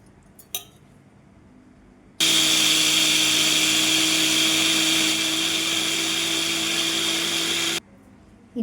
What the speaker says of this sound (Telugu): ఈ బియ్యం అయితే కొంచెం నీళ్ళు వేసుకొని మెత్తగా పట్టుకోవాలి